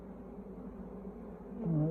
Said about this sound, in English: Plenty of bees in this box.